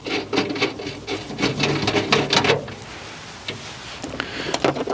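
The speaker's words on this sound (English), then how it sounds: "take the ball stud. With the M6 thread and the washer, carefully screw it into this thread." An M6 ball stud with a washer is screwed by hand into a threaded hole on a Skoda Elroq, giving close rubbing and light metallic scraping in a quick series of strokes that fades to a quieter hiss.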